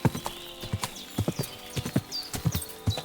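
Horse hooves clip-clop on a trail in the medieval video game Kingdom Come Deliverance 2, a brisk run of close, crisp hoofbeats in uneven pairs, with a faint snort.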